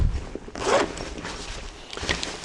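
A zipper is pulled open on a Cordura ripstop nylon softbox case with a handle, giving a close, raspy run of short zipping strokes with brief pauses between them.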